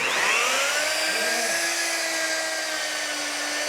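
A motorized drill boring through snow toward ancient ice layers on Mount Olympus, a loud steady whining drone with a high tonal pitch that sweeps slightly, continuous and close throughout.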